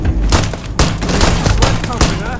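Pistol fire during a Starfield firefight: loud, close, rapid shots in quick irregular succession with booming impacts, and a voice faintly mixed in.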